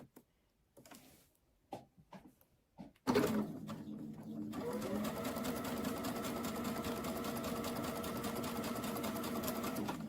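A sewing machine with a 1/4-inch foot pieces two patchwork fabric pieces for a half-hexagon fall table runner. A few soft handling clicks come first, then a loud, steady, continuous mechanical whir runs close by to the end.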